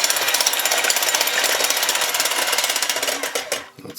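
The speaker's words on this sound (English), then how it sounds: "I'll even add in the vanilla. And I'll just whisk this up." A whisk beats brownie batter of salt and vanilla in a bowl with a fast, even, close clatter that runs without a break and trails off in the last half second.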